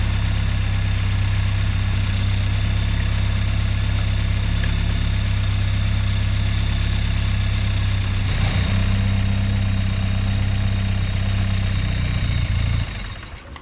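A Triumph TR3 engine idles steadily with a loud, even low drone. The note stays unchanged until it cuts off abruptly near the end.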